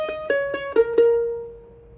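Mandolin plays a bluegrass pickup phrase of five crisp plucked notes in quick even succession, the last ringing out and fading, alone with no talk.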